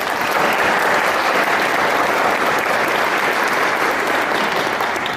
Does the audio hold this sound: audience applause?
yes